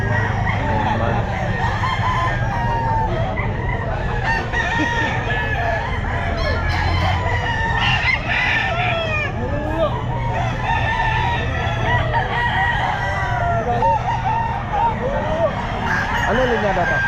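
Boston Sweater gamefowl roosters, ten months old, crow and cluck repeatedly in a busy pet market, with several birds overlapping loudly throughout and a steady background din.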